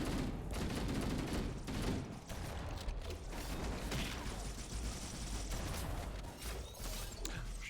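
Shotgun and other gunfire crackle in the video game Halo CE, a rapid run of sharp shots and mechanical clatter at a fairly low level throughout.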